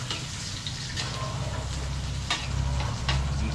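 Onion and garlic sauté in hot oil, a steady close sizzle with the occasional clink and scrape of stirring running throughout.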